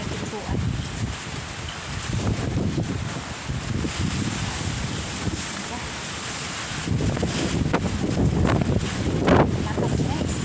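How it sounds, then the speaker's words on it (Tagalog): A strong, gusty typhoon wind roars and buffets a microphone in Taiwan near a doorway. It sounds as a continuous rushing noise with swelling gusts and rustling, and people talk faintly beneath it. "Pabugso-bugso ang hangin."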